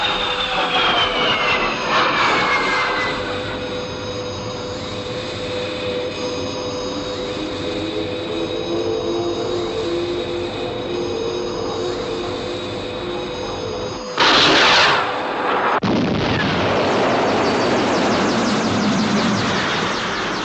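A TV sci-fi aircraft closes in on a UFO with a loud, steady roaring drone and shifting whine, then a sudden brief burst of firing near the end before the roar resumes.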